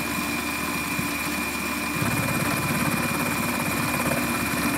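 A Warco metal lathe takes a light final cut of about 1mm on a shop-made quick change tool post part, giving a steady, loud mechanical drone with a rhythmic hum that grows slightly stronger partway through.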